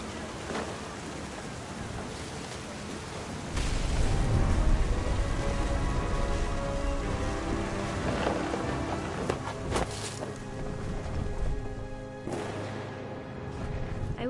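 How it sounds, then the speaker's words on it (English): Steady rain patters across a surface in the video game What Remains of Edith Finch, joined by deep rolling rumbles of thunder that swell midway and recur, moderately loud and without talk. "The thunder sounded much too close and full of angry power."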